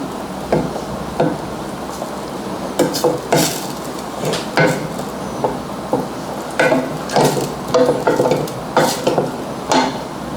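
Sauce is stirred in a pan while cooking buffalo wings, with repeated scraping and clinking strokes in an irregular rhythm, close and moderately loud.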